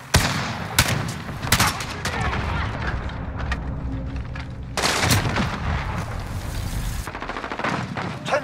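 Gunfire in Call of Duty: Modern Warfare during a hardpoint match, with sharp single shots early on, then long, loud automatic bursts with booming echoes, and brief shouted voices mixed in.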